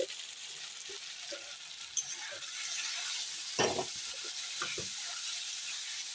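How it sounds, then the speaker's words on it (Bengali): Spices including turmeric and sugar being stirred in a hot pan for a tangra fish curry, giving a continuous soft sizzle with occasional scraping and clattering of a spatula, fairly quiet and close. "এখন সব মশলা দিয়ে নেড়ে চেড়ে নেই"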